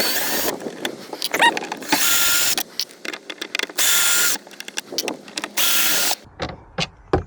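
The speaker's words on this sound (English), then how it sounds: "Then we're gonna pull out the speaker screws." A cordless driver buzzes in several short, close bursts as it backs out speaker screws on a boat during a Yamaha trolling motor install, with clattering handling noises between the runs.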